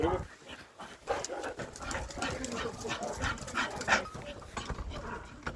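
A bull terrier playing with another dog, with panting, whimpers and short yelps and barks scattered through the scuffle while a person talks over it.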